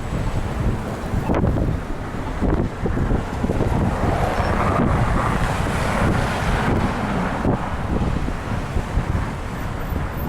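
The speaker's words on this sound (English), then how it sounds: "It's actually really windy in this corner." Gusty wind howls and buffets on a downtown Regina street corner during a steady snowstorm, loud and continuous with sharp gusts through the whole stretch.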